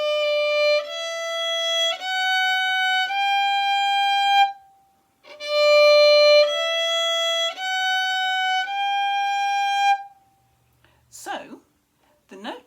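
A violin or viola plays a finger pattern in third position, two ascending runs of four sustained bowed notes each, clear and close, followed by a brief pause and a short burst of sound at the end.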